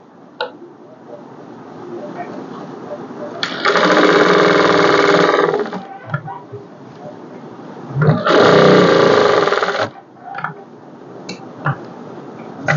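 Sewing machine stitching a blouse, running in two loud bursts of about two and four seconds separated by quieter handling noise, with a person talking around and between the bursts.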